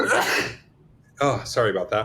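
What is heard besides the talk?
sneeze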